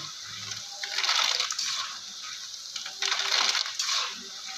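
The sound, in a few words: khurma (khasta gaja) dough pieces rattling while frying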